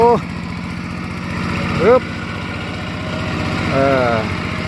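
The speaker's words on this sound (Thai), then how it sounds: "รถไถแบบเดินตาม" A two-wheel walking tractor's small engine chugs steadily at close range with a rapid, even putter, rising slightly in revs at moments; brief voices break in over it.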